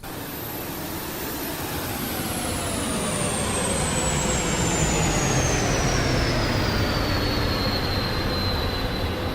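Aircraft engine from a current-generation flight simulator game, a steady broadband roar with a slowly falling high whine, continuous and fairly loud throughout with no voices.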